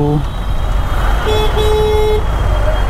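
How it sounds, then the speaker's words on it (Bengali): Traffic rumbles throughout as a vehicle horn sounds in a couple of toots from nearby, with a person talking over the noise. "আরে পেছনে হর্ন মারলে হবে"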